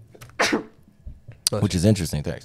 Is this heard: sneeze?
yes